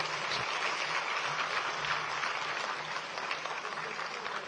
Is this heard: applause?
yes